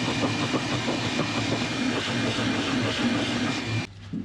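A shop vac runs on the driver's side floor of a free Subaru littered with mouse droppings and debris, giving a loud, steady, close-up roar that cuts off abruptly near the end.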